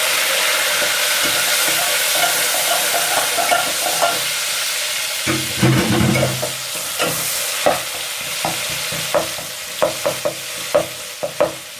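Tomatoes drop into a hot pan for an aloo matar pulao and fry with a loud hissing sizzle, followed by repeated stirring scrapes and clinks at a close distance.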